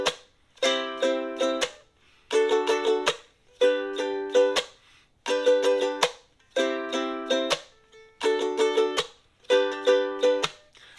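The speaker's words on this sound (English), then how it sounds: "It's simply hitting all four strings with all four of your fingers and then stopping the sound with your palm." An acoustic ukulele strummed down and up in a steady repeating pattern, each phrase ending with a percussive palm-muted chuck that cuts the ringing strings short, followed by a brief pause before the next bar, close and clear.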